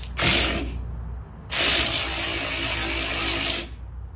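A power ratchet works loose brake and suspension parts on an old Rambler car in two loud, close bursts of buzzing mechanical rattle, a short one and then a longer one, with a pause between.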